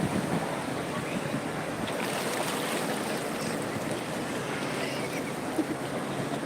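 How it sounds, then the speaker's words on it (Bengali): Steady rushing wash of sea waves breaking on the beach at New Digha, a continuous broad roar with some wind buffeting the microphone. "সমুদ্রে ঢেউ আসছে"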